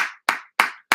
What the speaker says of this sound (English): let us all give a round of applause to Eric Solomon.